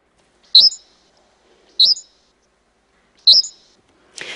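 Three short, high bird chirps arrive at even intervals with quiet pauses between them, crisp and close, followed by a brief rustling noise at the end.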